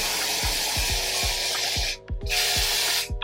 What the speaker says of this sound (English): Now that we sprayed that part, we're gonna spray the inside part of the wig.